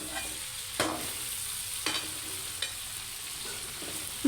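Okra and chicken stirred in a hot pan, a steady dense sizzle of frying oil broken by a few scraping stir strokes, close and continuous with no voices.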